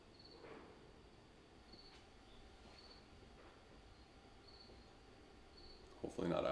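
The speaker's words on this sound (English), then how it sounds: "There was an actual cricket playing that entire time." A real cricket chirps in short, evenly spaced bursts, faint and steady against a quiet room, ending with a sudden louder clatter near the close.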